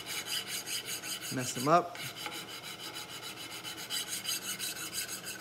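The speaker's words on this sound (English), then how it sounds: "I'm cross-filing as I'm filing" Hand file cross-filing small brass parts from a colonial kit, a steady repeated rasping stroke rhythm throughout, close and moderately loud, with a brief voice partway through.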